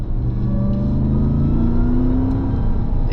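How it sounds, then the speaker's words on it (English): A 2024 RAM 1500 TRX Final Edition pickup engine revving hard toward the red line under acceleration, a loud continuous roar climbing steadily in pitch, heard close from inside the cab with no talk. "It does actually hit the red line as well if you don't shift gears like I just did."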